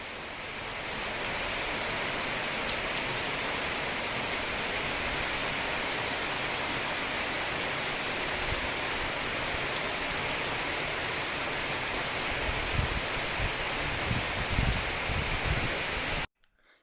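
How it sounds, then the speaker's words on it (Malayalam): Heavy monsoon rain pouring down outside a home kitchen in Kerala: a dense, unbroken hiss of downpour, loud and steady throughout before cutting off abruptly at the very end. "പുറത്ത് മഴ നല്ല തകർത്ത് പെയ്തുകൊണ്ടിരിക്കുക."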